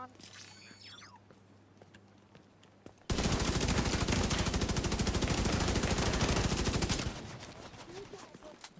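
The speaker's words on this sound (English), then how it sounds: "Some shooting." Sustained rapid video game gunfire erupts loudly after a quieter stretch with faint game sounds, rattling continuously for about four seconds before easing into a lower, ongoing din.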